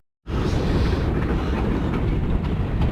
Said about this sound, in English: we got a little bit of a train coming through, so it's gonna be a little noisy